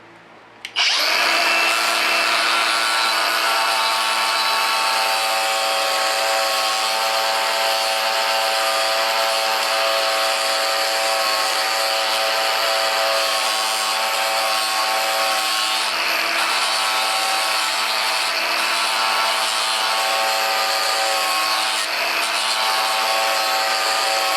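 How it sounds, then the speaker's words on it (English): Milling machine taking a light surface cut to remove paint from a vise, a loud continuous high-pitched whine with a steady cutting hiss that starts suddenly and holds unbroken, close up with no talk. "put it in the milling machine. Just take a light surface, get rid of the paint."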